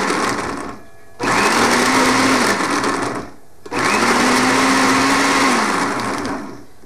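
A food processor pulses parsley with another ingredient into crumbs for a seafood dish, giving two long, loud whirring bursts with a brief pause between them, close by, the motor slightly changing pitch as it spins; no speech over it.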